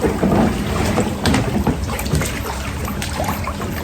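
Someone clambers into an Alpacka packraft on the water, with splashing, sloshing and knocking against the boat over constant rushing water and wind buffeting the microphone.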